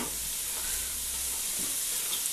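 Leeks cooking in a pan give a steady, close sizzling hiss that holds evenly throughout, with a faint soft stir partway through.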